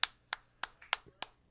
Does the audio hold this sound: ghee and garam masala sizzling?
no